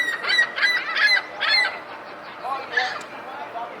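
Seagulls at an amusement park in Montreal give a run of loud honking calls in quick succession. A few fainter, farther calls follow after a short pause.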